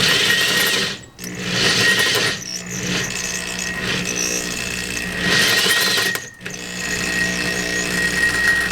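A drill with a hole saw grinds and whines steadily through metal, the tone dipping briefly twice as the cut bites, then resuming loud and close.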